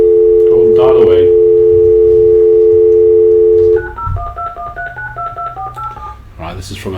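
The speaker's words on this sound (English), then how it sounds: "So somebody dials a number." A steady dial tone on a phone line gives way to a rapid sequence of telephone keypad tones as a number is dialed, with someone speaking over the start and brief talk at the end.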